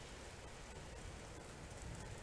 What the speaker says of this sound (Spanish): ya está empezando a llover aquí